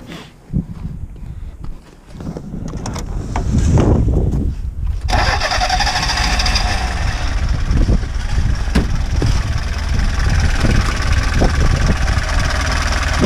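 A race vehicle's engine cranks and catches after wiring repairs, then settles into a loud, steady, close idle that runs continuously with slight fluctuations.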